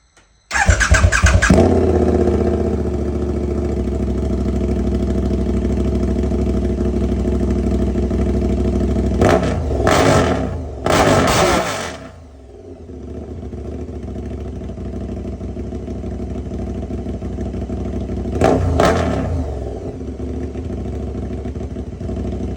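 A KTM 1290 Super Adventure S motorcycle with an Arrow Sonora titanium exhaust starts and idles loudly with a raspy, clattering exhaust, blipping the throttle in a few short revs before settling back to idle.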